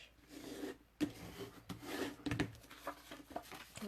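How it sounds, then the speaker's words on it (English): A folded Lindt chocolate bar wrapper is burnished along its edge, giving soft close rubbing and scraping strokes with a few sharper taps, no talk. "you can line it up on each edge and then burnish."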